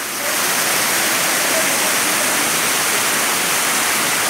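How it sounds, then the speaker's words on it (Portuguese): Water cascades loudly into the Mar de Minas reservoir near Guapé, a dense, unbroken roar of falling water heard alone throughout. "Vamos escutar o barulho e ver as águas desagando."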